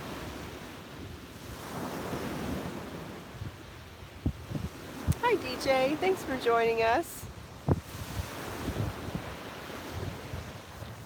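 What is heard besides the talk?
Atlantic Ocean waves and wind at Miami Beach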